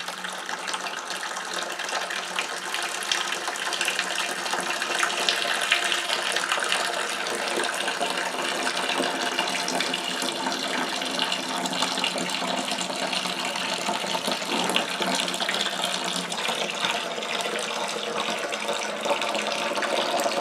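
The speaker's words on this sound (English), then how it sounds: "let me sparge this off until I collect 6 gallons" Steady water pours and splashes without a break while rye whiskey mash is sparged to collect six gallons, a constant close rushing flow with no talking.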